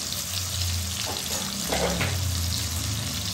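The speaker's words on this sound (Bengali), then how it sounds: "যতক্ষণ পেঁয়াজটা লাল লাল হচ্ছে না, এটা ফুল ফ্লেমে ভাজতেই থাকবে" Onions with a pinch of salt frying in a pan over a full flame, a steady close sizzle with soft crackle and a low hum of the stove underneath, no voices.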